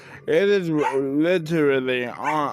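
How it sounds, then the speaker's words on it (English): Loud dogs bark and whine in drawn-out, howling yelps, nearly continuous and mixed with a person speaking close by. "I apologize for the loud dogs in the background."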